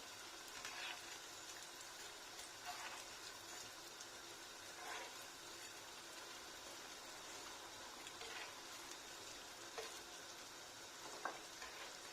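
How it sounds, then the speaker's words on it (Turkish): Rice meatballs sizzle steadily in hot oil, a continuous crackling hiss with occasional stirring scrapes, fairly close and without any talking. "iyice kızarttığım köftelerimi"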